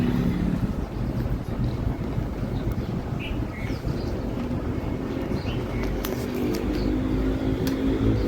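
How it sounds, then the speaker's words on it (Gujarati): Cold wind blows hard across an open rural farmyard, a constant roaring rumble buffeting the microphone for the whole stretch, with no one speaking. "અને પવન છે આ ઠંડો બહુ"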